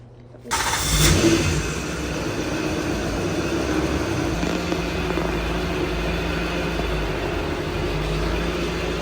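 A car engine starts abruptly after near silence, then idles and rumbles steadily nearby as the car is about to be moved, with a faint voice in the background.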